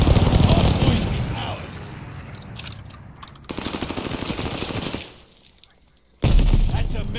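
Airstrike explosions and heavy gunfire from the video game Modern Warfare II during a ranked Hardpoint match, loud booms and rapid bursts packed through the first half. A brief lull follows, then another hard burst.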